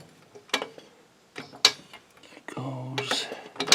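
Floor jack being worked under the rear subframe of a Mercedes-Benz W126 S-Class: a handful of sharp, close metallic clicks and clanks at uneven intervals, with a short stretch of low humming voice midway.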